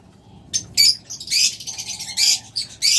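A pair of pet birds, one red-eyed and one opaline cobalt, chirp in short, bright bursts that come and go irregularly over a faint background, close by with no talking.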